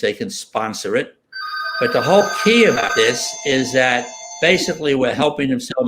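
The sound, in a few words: telephone ringing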